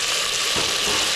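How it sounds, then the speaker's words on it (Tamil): Onions frying in oil until golden for chicken dum biryani on a gas cooker, a steady close sizzle over its whole length with one soft stirring scrape near the middle. "வெங்காயம் வந்து பொன்னிறமாக ஆகிவிட்டது"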